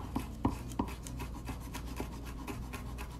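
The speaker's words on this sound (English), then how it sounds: "Now, we're also going to cut some of this pepper," Knife chopping fresh hot pepper on a cutting board, a few distinct taps followed by softer, quicker cuts at close range in a quiet kitchen.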